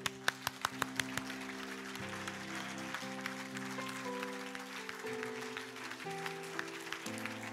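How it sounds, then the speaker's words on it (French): A church congregation claps in praise of the Lord, a run of sharp, evenly spaced claps at the start giving way to sustained music and a general crowd wash. "Applaudis le Seigneur"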